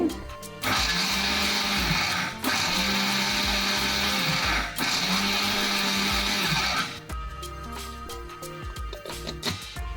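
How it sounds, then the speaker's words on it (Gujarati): An electric grinder pulverising sugar, tea leaves and cardamom for a tea premix, loud whirring in three pulses separated by brief pauses, then quieter rattling and handling. "આપણી આમાં ખાંડ દળાઈ ગઈ છે અને આપણે જે ચાની ભૂકી હતી એ પણ દળાઈ ગઈ છે"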